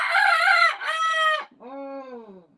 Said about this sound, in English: I don't mind her crowing